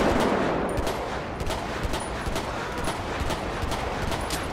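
Rapid gunfire from a GTA LSPDFR police shootout, with repeated sharp shots in bursts over a dense, steady background of game noise.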